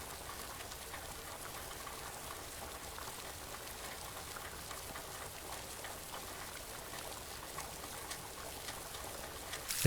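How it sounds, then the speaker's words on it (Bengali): Rain falls steadily outside a window as a soft, even hiss of drops, faint and unchanging throughout, with no voices. "জানলার বাইরে তখন বৃষ্টির বেগ বেড়েছে।"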